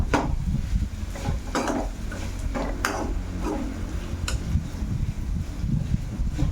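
Kasara kayi (bitter gourd) being stirred with garlic and chili powder in a pan over medium flame, with repeated scraping and clinking of a spoon against the metal at an irregular rhythm over a steady low sizzle.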